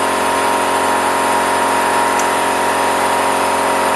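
Air compressor in a garage running steadily, a continuous dense mechanical whine and hum at even loudness with no pauses.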